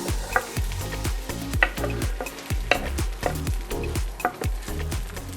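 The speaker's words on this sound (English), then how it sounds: "let's add those onions because the tofu has started to get a good browning on it." Tofu and onions fry in oiled pan for vegan Asian lettuce wraps, stirred steadily so a utensil scrapes and knocks in a regular rhythm over a low sizzle, close and clear with no talking.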